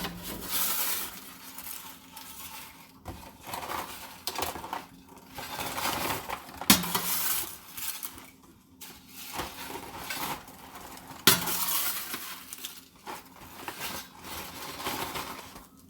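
Strawberries scooped into a bag with a metal French fry hook, close and continuous crunchy scraping and rustling with a few sharp clinks, no voices.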